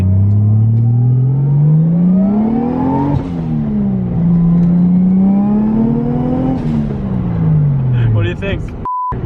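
A car with a JZ engine on its stock turbo and stock ECU accelerates hard, its engine note rising through the gears in several long climbing pulls, loud and close, with short dips at each shift.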